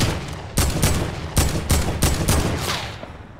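A rapid series of about eight sharp gunshots in the Fortnite video game, loud and close, fired in quick bursts with short gaps, with no talk.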